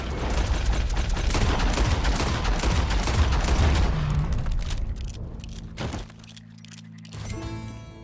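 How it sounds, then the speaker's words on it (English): Gunfire rings out in Red Dead Redemption 2 amid a dense, loud stretch of booming shots and chaotic action noise that tapers off, leaving quieter ambience and a few scattered sounds near the end. "He shot the thing!"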